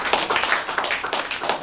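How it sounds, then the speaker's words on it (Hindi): Students in a school classroom clap their hands together in a quick burst of close, sharp claps lasting a moment. "अरे वाह, ताली बजाओ जरा जोर से।"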